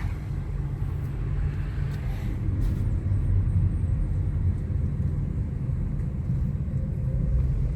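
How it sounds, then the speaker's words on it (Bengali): Vehicles on a winding concrete road through a residential neighbourhood of houses in America make a continuous low rumble of passing traffic, steady and moderately distant, with no voices. "আর আজকে গাড়িগুলোকে দেখে মনে হচ্ছে যেন সেই ট্রেনের মতো যাচ্ছে।"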